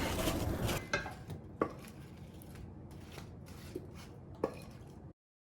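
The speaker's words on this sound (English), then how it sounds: "Let's give this a stir. Just want each apple coated in all of this goodness." Apple slices tossed with salt and sugar, stirred in a bowl with scraping, clinking utensil strokes and a few sharper knocks, close and moderately quiet, ending in silence.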